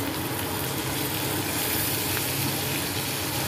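Tomato drops into a pan of frying softened onion, raising a dense, steady sizzle that holds evenly at moderate loudness without pause.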